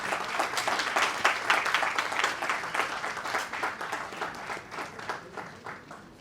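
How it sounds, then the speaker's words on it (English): Audience applause at a law school moot court competition, a sustained round of many hands clapping that starts full and gradually thins toward the end, heard from the middle of the room with no speech over it. "Please give her a round of applause."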